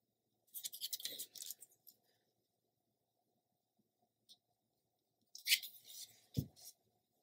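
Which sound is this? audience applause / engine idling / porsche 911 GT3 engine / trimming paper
trimming paper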